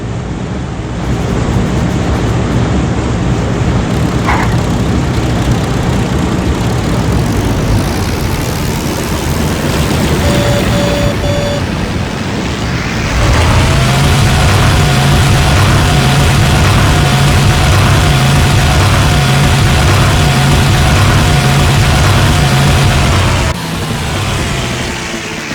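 Propeller aircraft engines in the Heroes of the Pacific video game, a loud continuous droning roar that swells as the throttle comes up midway, with a steady pulsing tone underneath before easing slightly near the end.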